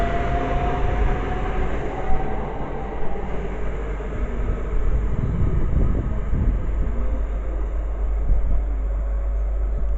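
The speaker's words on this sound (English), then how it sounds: "And departing over there is the Bakerloo line heading to the sidings." A Bakerloo line train pulling out of Harrow & Wealdstone station toward the sidings: a continuous rumble of wheels and motors at moderate distance, swelling slightly midway as it moves off, with a faint whine at one point.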